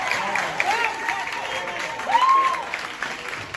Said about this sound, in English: Stop your clapping for him.